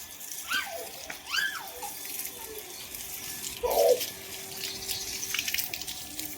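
Water runs from a household tap through a pipe in a steady, close rush, with a few bird chirps at the start and brief splashes partway through.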